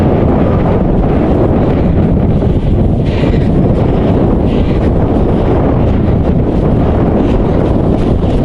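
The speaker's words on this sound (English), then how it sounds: "Nice headwind." Strong headwind buffets the microphone on a fell run up Winder near Sedbergh, a loud continuous low roar with gusty surges throughout and no talking.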